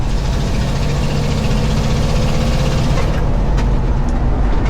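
An old beater truck engine idles steadily with a deep, throbbing muscle-car rumble, constant and close throughout.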